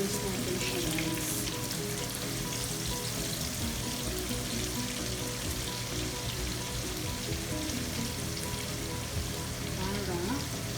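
Onions sauté in a pan, making a soft, continuous hiss-like sizzle that stays fairly faint and steady throughout.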